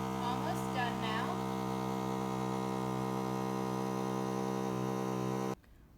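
A vacuum sealer machine sealing a bag for sous vide NY strip steak: a steady, loud electric hum that runs unbroken and then cuts off abruptly near the end, with a brief voice early on.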